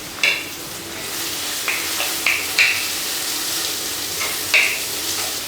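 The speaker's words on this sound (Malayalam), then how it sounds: "ഇനി ഈ സവാള നല്ലതുപോലെ വഴറ്റി" Sliced onion and a few curry leaves sauté in oil in a pan for a Kerala-style potato curry, giving a steady close sizzle with several sharp metallic scrapes and taps of a spoon stirring, and no speech.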